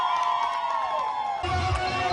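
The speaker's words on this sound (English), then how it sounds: "Here in Achaba, crowds receive Alum." Crowd cheering at an NRM campaign rally in Achaba, Uganda: high ululating cries and whoops from many voices, with a louder surge of shouting and rumble joining partway through.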